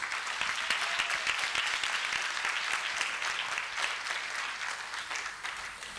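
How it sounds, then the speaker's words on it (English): Sustained applause from an audience at a projects launch event, many hands clapping in an even, continuous roar that holds for several seconds and eases slightly toward the end. "Can we give a huge round of applause for everybody?"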